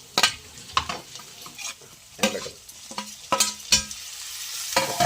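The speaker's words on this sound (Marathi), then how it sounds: "कांदा पूर्णपणे शिजवून घेऊ मस्त वेगळे मिरची टाकून घेऊ" Onion and green chillies fry in a pan under repeated scraping strokes of a spatula, with crackling sizzle beneath an uneven rhythm of stirring and clanks.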